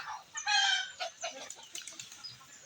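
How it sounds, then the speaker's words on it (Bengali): On a small family farm, a rooster lets out a loud crow near the start, followed by scattered clucking from hens in a quiet setting. "এই দেখেন মুরগি"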